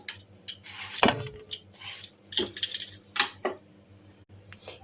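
A knife scrapes the skin off a raw plantain in short, irregular strokes with sharp metallic clinks, close-up and alone.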